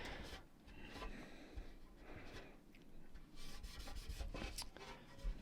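Steady rubbing and scraping of a cloth cleaning the plastic casing of a Grandstand Astro Wars handheld game, continuous with slight rhythmic swells, close by and moderately quiet.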